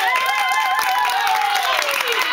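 An audience claps for the actors after a performance, a dense steady wash of applause sustained throughout, with children's voices and chatter mixed in over the clapping.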